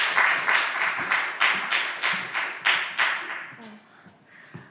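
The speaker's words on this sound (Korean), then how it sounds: "나올 때 박수 부탁드려요." A church youth congregation claps in steady rhythmic bursts that fade toward the end, with a few scattered final claps.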